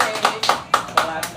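Audience at a stand-up comedy open mic in Sumenep, Madura, claps in a short run of evenly spaced bursts, about four sharp claps a second. The applause is fairly close and rises above a quieter background.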